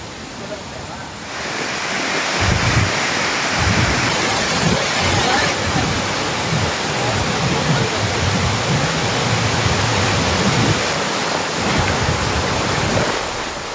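Thirparappu waterfall in Kanniyakumari, swollen and gushing hard after heavy rains, roars as a steady, dense broadband rush that fills the whole stretch without pause.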